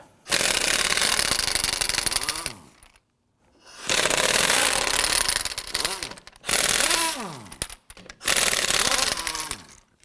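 An impact wrench fitted with a 19mm socket loosens the front wheel lug nuts on a 2008-2011 Ford Focus in four loud, rattling bursts separated by short pauses.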